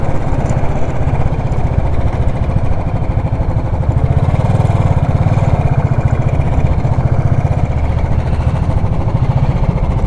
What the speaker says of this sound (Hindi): हम देख रहे हैं अपनी बाइक कहाँ पार्क करें।